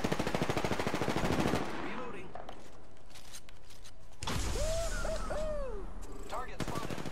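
Rapid automatic gunfire in Apex Legends rattles loud and close for about a second and a half, then quieter ambient game sounds with tonal effects follow, and another burst of shots closes the stretch.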